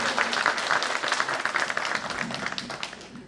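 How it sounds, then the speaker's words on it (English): An audience gives a sustained round of applause at a community gathering, a dense wash of many hands clapping at moderate distance, steady for the whole stretch. "Please give her a big round of applause."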